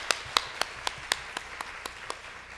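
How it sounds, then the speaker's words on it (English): Conference audience at an international development conference in Seoul clapping, heard as about nine slow, evenly spaced, fairly faint claps rather than a dense roar of applause. "We all give big applause to everybody."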